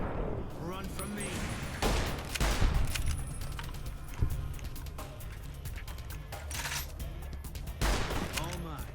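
Gunfire in the Fallout New Vegas video game, including a revolver: several sharp shots and bursts scattered through the stretch, mixed with game noise and someone talking.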